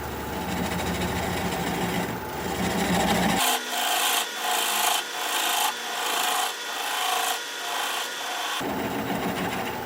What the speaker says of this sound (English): I'm going to switch to a 3/8 inch swept back bowl gouge so that I can get in there closer